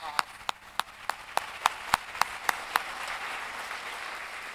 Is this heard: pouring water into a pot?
no